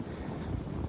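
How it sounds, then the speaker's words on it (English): A strong wind gust roars steadily and loudly across the microphone during a blizzard in Buffalo, a continuous low buffeting rush with no voice. "Yeah, that was a wind gust."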